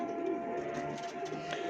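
A pigeon coos softly and close by, low repeated throaty notes over a faint background hum.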